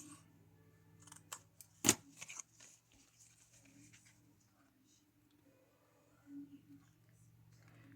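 Scissors snip through material for nail art, one sharp cut standing out among softer rustling and handling noises, close and fairly quiet with no talk.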